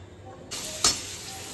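A spiced papad drops into overheated oil in a home kitchen pan, giving a sudden loud sizzling hiss with a sharp burst partway through, then a steady quieter fizz.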